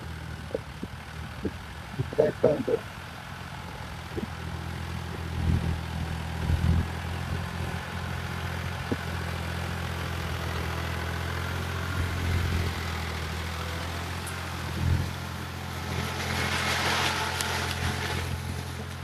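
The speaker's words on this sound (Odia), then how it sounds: "ଟ୍ରାକ୍ଟର ଟା ପାଖକୁ ଆଇଲେ ମୁଁ ଦେଖଉଛି ତ କେମିତି ହଳ କରି କରି କେମିତି ଆସୁଛି ଟ୍ରାକ୍ଟର ଟା, ଦେଖିପାରୁଥିବେ।" A tractor ploughing a flooded rice paddy field in Mayurbhanj, Odisha, its engine a steady low rumble throughout, with faint clanks and swells as it works the mud nearby.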